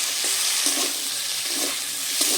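Pointed gourd and prawns fry and are stirred in a pan, a steady close sizzle with faint rhythmic scraping of the spoon every half second or so.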